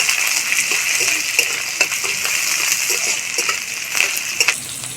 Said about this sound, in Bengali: দিয়ে দিচ্ছি একটা পেঁয়াজ কুচি আর দিয়ে দিচ্ছি চার থেকে পাঁচটা কাঁচা লঙ্কা কুচি এটাকে তেলের মধ্যে তেলের মধ্যে নেড়ে ছেড়ে একটু ভেজে নেব